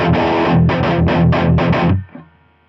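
Heavily distorted electric guitar played through a NUX MG-400 multi-effects processor with the gain turned up, loud crunchy chords in a rhythmic series of strums that cut off and ring out briefly at the end.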